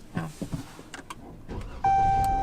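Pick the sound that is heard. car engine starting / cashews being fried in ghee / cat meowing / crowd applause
car engine starting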